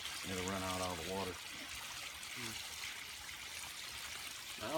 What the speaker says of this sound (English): It'll run out all the water.